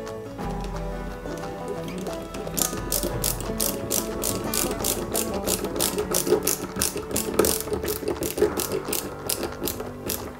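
Small screws ratcheted into a Lancia 037 scale model kit, a rapid, even train of close clicks after a quieter lead-in.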